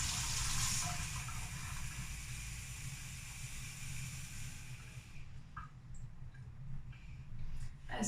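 Tap water from Stockholm runs in a steady hissing stream into a container, filling close up for about five seconds before stopping, followed by faint handling sounds and no talk.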